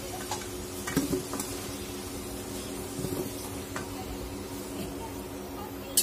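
Potatoes frying in oil in a kadhai, a steady close sizzle with occasional clinks and stirring knocks against the pan.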